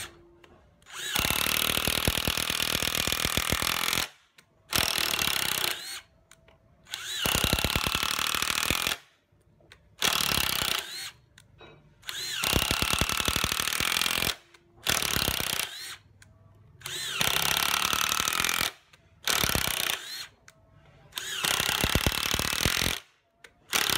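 A Hitachi WH12DM2 impact driver sinks large 5 mm screws into oil wood in repeated loud rattling hammering bursts of a few seconds each, separated by short silences.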